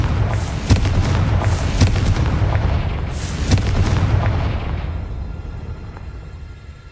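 A Confringo spell explosion in Hogwarts Legacy: a series of deep booms with sharp cracks on top, several blasts close together, then a long rumbling tail that slowly fades toward silence.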